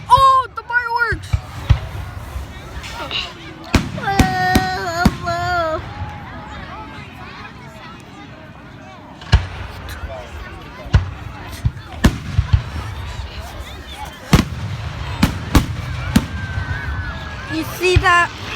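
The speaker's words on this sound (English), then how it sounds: "Oh, the fireworks!" Fireworks bursting at an outdoor fireworks show, sharp bangs scattered irregularly over crowd noise and excited voices, with whistling rises and crackles between the louder blasts.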